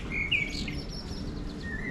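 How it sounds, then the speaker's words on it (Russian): A nightingale sings in a town centre in Sombor, Serbia, giving a short run of bright, close chirping phrases over a steady background hum of the town. "Соловей прям заливается."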